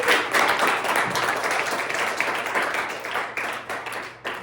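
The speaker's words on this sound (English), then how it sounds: "can we please give our Octofinalists a huge round of applause" Spectators at a middle school debate tournament give a round of applause for the octofinalists, a steady dense clapping that carries on throughout, close and fairly loud.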